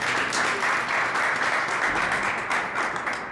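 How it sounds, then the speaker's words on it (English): A crowd at a news event claps loudly and continuously, a thick wash of applause from many hands with no voices over it. "let's give a big round of applause for my friend"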